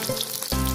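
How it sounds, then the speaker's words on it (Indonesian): Chicken pieces dropping into hot cooking oil, a sudden loud sizzle bursting out after a brief quieter crackle, close and intense. "Selanjutnya kita menggoreng ayam. Panaskan minyak secukupnya saja, kemudian kita masukkan potongan ayam"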